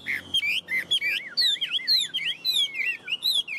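Chinese hwamei songbird singing close and clear, a fast run of bright, looping whistled phrases and chirps with no pauses.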